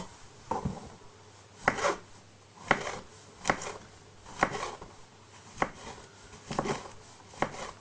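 A knife slices mushrooms onto a cutting board in steady, evenly spaced chops, close and clear with a quiet background.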